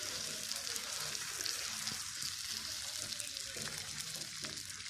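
River fish fry in a pan with a dense, continuous sizzle and crackle, steady and close throughout, with no one talking.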